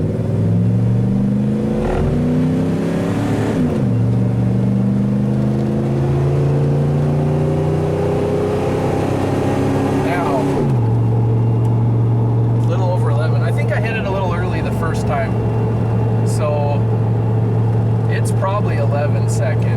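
An OBS Ford F250 with a 460 engine, shift kit and big mud tires accelerates hard, the engine climbing through several gear changes with loud rising and dropping tones, then holding a steady drone while people talk over it.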